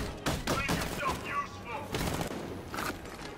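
Gunfire in Batman: Arkham Knight comes as a rapid, loud burst of several shots over a couple of seconds, with a voice mixed in among the bangs.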